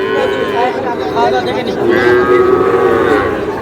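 Cattle moo repeatedly over a busy outdoor crowd at a cattle market, several animals calling loudly and close by amid background chatter.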